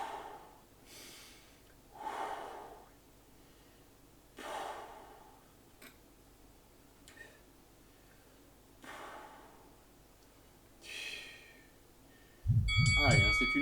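Heavy breathing during a bodyweight strength workout with light weights: several separate forceful exhales and inhales spaced a couple of seconds apart, close and fairly quiet, with a louder thump and tone at the end.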